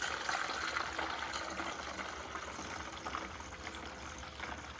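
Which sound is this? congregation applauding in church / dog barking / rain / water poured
water poured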